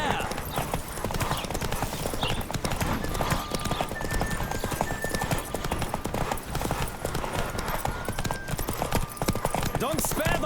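Rapid galloping hooves in The Witcher 3 pound continuously and loudly, with occasional whinnies and shouting voices over the rhythmic clatter.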